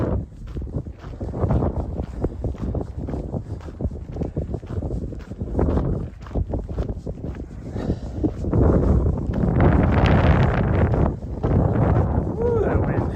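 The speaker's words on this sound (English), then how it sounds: "Ooh, that wind." Strong gusting wind buffets the microphone on a Montana trail during a high wind warning, a loud continuous low roar with rising surges, especially near the end.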